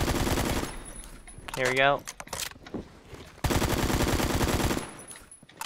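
Machine gun fire in the Phantom Forces video game comes in two long sustained bursts of rapid shots, loud and close, separated by a short spoken phrase and a pause.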